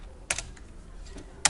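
Keystrokes on a computer keyboard while typing a folder name: a few quick, close taps, with a clear burst near the start and another near the end, over quiet room noise.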